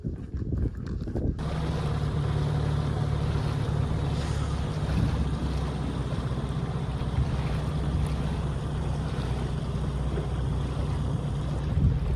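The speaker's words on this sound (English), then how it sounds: "Benny found herself aboard a century-old wooden schooner" A century-old wooden schooner under way at sea, with a steady low rumble of hull and water and constant wind across the microphone, loud and unbroken with no voices.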